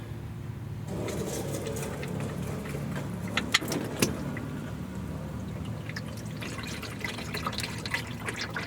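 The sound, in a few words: engine oil draining from a Volvo XC drain plug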